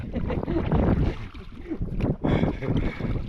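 Water sloshing and splashing as paddles stroke through it while a small boat is paddled, with wind buffeting a nearby microphone and a few indistinct voices.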